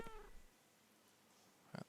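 A cat meows twice indoors, a short cry at the start and a brief louder one near the end, with quiet room tone between.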